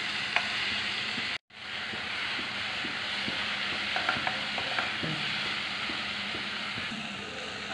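Onions sizzle steadily in a hot pan for bread puffs, with a continuous frying hiss and occasional scrapes and taps of a spoon stirring them, close and unbroken apart from one brief cutoff.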